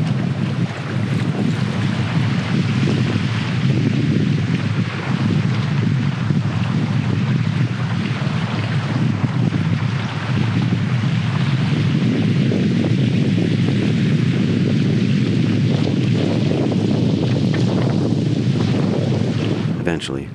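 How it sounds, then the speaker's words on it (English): Strong, gusting side wind sweeping across an Ontario backcountry lake during a canoe trip, a steady loud roar of buffeting wind with water lapping beneath it throughout, no voices. "It was an unpredictable side wind, swirling and kind of unsettling at times."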